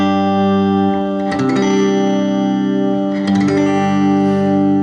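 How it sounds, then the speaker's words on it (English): Clean electric guitar played through a Roland JC-40 amplifier with no effects: sustained ringing chords with two strummed attacks, bright and close, with no voices. "this is the sound of a JC-40 amplifier without any effects"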